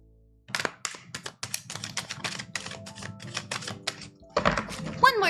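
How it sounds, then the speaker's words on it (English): Tarot cards being shuffled by hand, producing rapid crisp tapping and flicking bursts in quick irregular succession, close to the mic, with a denser flurry near the end. "One more shuffle."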